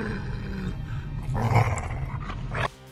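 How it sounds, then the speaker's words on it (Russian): A dog growls low and steadily for nearly three seconds, swelling louder in the middle before cutting off abruptly. "случайно привлекает внимание собаки, и разъяренный пес бросается на него"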